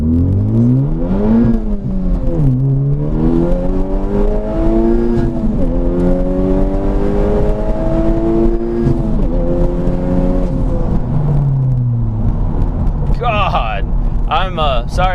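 A tuned Honda Civic Type R FK8 running on ethanol accelerates hard through the gears from inside the cabin, loud engine tone climbing and dropping at each shift while someone talks over it.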